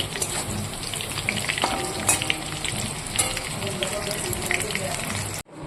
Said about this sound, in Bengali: আর এখানে নামিয়ে নিয়েছি মিষ্টি কুমড় ভেজে তো ফুলকপি ভাজাটা হয়ে গেছে